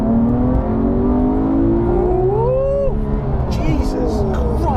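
A Porsche 911 GT3 Touring engine climbs in a rising rev, its pitch sweeping up sharply before easing off, loud and close inside the car, with voices underneath.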